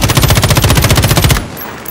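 Rapid automatic gunfire from a video game, a steady stream of loud, evenly spaced shots for over a second before cutting off abruptly, with no talking.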